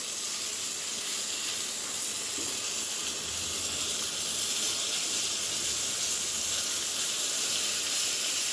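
Pieces of pointed gourd (potol) fry in hot oil in a pan, giving a steady, even sizzling hiss that runs without a break and without talk.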